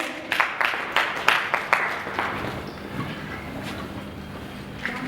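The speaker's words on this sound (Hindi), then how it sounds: "एक बार जोरदार तालियों के साथ सभी अतिथिगण का सम्मान करेंगे" An audience applauding guests at a BJP felicitation ceremony in Shahdara, Delhi: a handful of distinct, fairly close claps in an uneven rhythm, then a thinner, fading patter of scattered hand claps.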